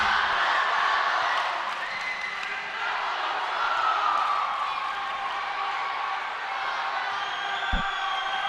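A high school volleyball crowd roars steadily in a gym, a continuous loud wash of cheering and shouting with one sharp thud near the end.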